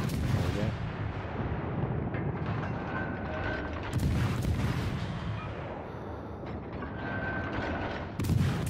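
Heavy naval gun salvos from World of Warships boom out in a few big blasts with rumbling aftermath, spaced several seconds apart over a continuous low engine-and-sea drone.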